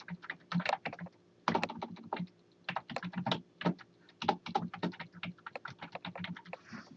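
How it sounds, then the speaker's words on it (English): Steady clatter of typing on a computer keyboard, close and distinct keystrokes in irregular bursts with brief pauses between them. "Just click and type."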